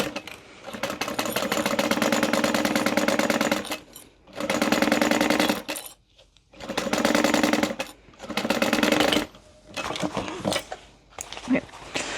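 A sewing machine stitching handbag lining in several runs of rapid, even mechanical whirring, separated by short pauses with faint handling and some talking.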